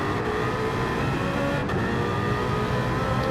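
Engine of a BMW race car heard from an onboard roof camera during a close race, a loud continuous roar holding steady at high revs with brief dips in pitch.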